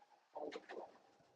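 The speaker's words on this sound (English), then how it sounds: "You can see the birds are get a little excited when when morning comes." Pigeons or doves cooing at morning, a few soft rounded coos in quick succession at moderate distance, with faint background ambience and no talking.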